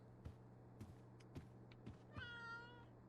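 A cat meows in Life is Strange: True Colors, one drawn-out meow near the end after several soft thumping footsteps, with no talking.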